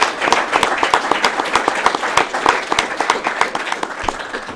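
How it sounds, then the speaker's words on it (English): Applause at a city council meeting in Roosevelt, Utah, moderate group clapping with distinct individual hand claps standing out in an uneven, lively rhythm. "Give him a round of applause."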